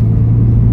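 A 2003 Ford Mustang V6 with a straight pipe exhaust drives with a loud, deep, steady engine rumble, close and constant with no voices.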